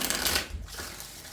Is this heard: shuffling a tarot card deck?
yes